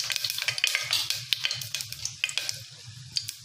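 Sugar added to hot refined oil in a pressure cooker while pulao is being made sizzles close by, with irregular crackling pops and stirring sounds over a steady fry.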